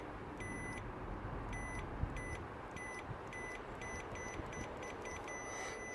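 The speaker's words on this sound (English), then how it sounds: "Can you hear the beep?" Repeated short electronic beeps from an Audi A5 TFSI 8T oil level sensor switch under repair, sounding in an irregular series of brief tones over a steady background hum.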